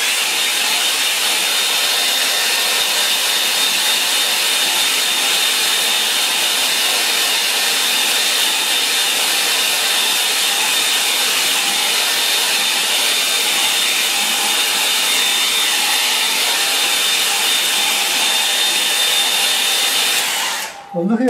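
A hair dryer blows steadily and loudly on a painting for about twenty seconds, a constant close airy whoosh with a thin high whine, cutting off abruptly at the end.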